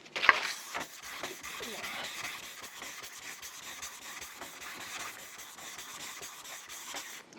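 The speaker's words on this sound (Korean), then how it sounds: "사포하는 게 1200이고요." Wood being hand-sanded with 1200 grit sandpaper, a steady run of close, soft rasping strokes that repeat evenly, opening with a brief louder scrape and no voices.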